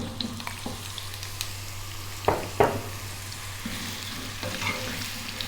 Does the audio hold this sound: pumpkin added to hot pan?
yes